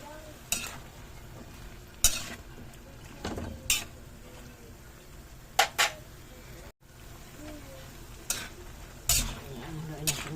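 Pakbet with longganisa, seasoned with salt and pepper powder, being stirred in a pan: quiet frying sizzle under intermittent spoon scrapes and clanks against the pan.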